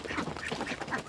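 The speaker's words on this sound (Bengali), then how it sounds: "দেখছো বৃষ্টির মধ্যে বর্ষার মধ্যে কেমন হাঁসগুলো জলে খেলছে।" Ducks quacking while playing in water during monsoon rain, a brief burst of several rapid nasal quacks heard close over a constant wash of background noise.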